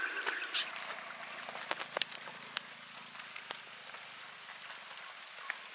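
Quiet rainfall in Borneo patters on a surface, with scattered sharp drips standing out against a soft, steady wash.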